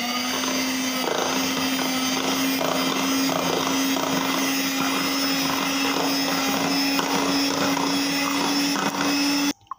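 An electric mixer whips mango puree, a steady loud motor whine with a strong constant hum and a gritty churning texture, running evenly for nearly ten seconds before cutting off.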